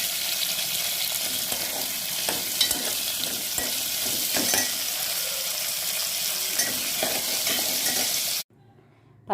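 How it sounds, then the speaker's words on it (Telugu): Green chillies fry in hot oil in a home kitchen, a continuous close sizzle with occasional stirring clatter that runs steadily until it cuts out abruptly near the end. "పచ్చిమిరపకాయలు నూనెలో వేయించుకున్నానండి."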